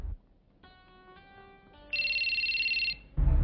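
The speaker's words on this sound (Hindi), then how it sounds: "हिम्मत नहीं है फोन उठाने की।" A telephone rings with a tonal electronic ringtone, a stepped melodic phrase followed by a louder sustained buzzing tone, then a sudden noise at the end.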